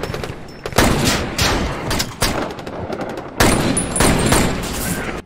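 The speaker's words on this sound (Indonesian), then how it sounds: "Seketika itu juga mobil Jack diberondol peluru." Gunfire rakes a car in a scene from the film Jack Reacher: rapid, loud bursts of shots in several volleys with short gaps between them, dense and close, with no talk over them.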